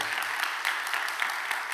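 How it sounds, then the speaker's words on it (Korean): A church congregation at a Korean Sunday worship service gives steady, moderately loud applause, with individual hand claps standing out in a continuous patter. "하나님께 영광의 박수 한번 올려드리고 하겠습니다"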